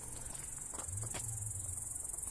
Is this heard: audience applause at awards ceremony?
no